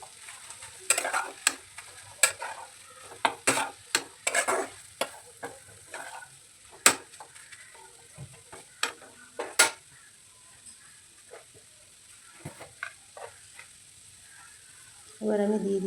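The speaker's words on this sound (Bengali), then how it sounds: "আলুটা দিয়েও ভালো করে নাড়াচাড়া করে নিচ্ছি।" Fish with mashed boiled potato is stirred in a pan, making repeated scraping and tapping strokes of a utensil against the metal over a faint sizzle, with quieter stretches between bursts and a louder scrape at the end.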